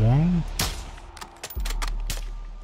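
Video game gunfire comes as several sharp shots and cracks spread over about two seconds, after a short tonal sweep and with low rumbling between the shots.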